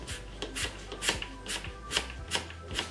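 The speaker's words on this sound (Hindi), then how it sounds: "आप सुन पा रहे हैं इसमें से हवा निकल रही है" A hand pump drawing air out of a vacuum food container through its lid, giving close, rhythmic puffs of hiss about twice a second, alone and without talk.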